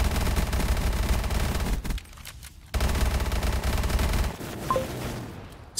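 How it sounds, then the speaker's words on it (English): Rapid automatic fire from a KF5 submachine gun in Black Ops 3 custom zombies on the Lifetime map, loud sustained bursts that stop briefly mid-clip, then resume and fade into game sounds. "The KF5? Let me try this weapon out."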